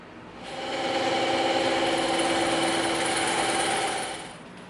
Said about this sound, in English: So we're gonna rip this out on the bandsaw real quick.